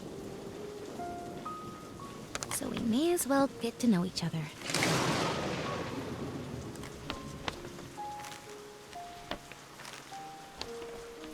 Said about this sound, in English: until this storm started. Now, I guess we're stuck here until the rain clears.